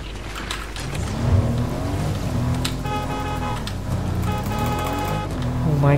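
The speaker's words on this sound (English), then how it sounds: "Yep, there's a car there." A car engine in the video game Fortnite hums and revs steadily in the foreground, rising and falling in pitch over several seconds with other game sounds layered on top.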